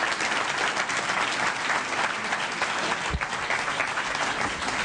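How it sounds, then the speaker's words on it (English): Steady, dense applause from an audience at a political candidates' forum in a university centre, continuous and fairly loud with no talking. "Now you can applaud."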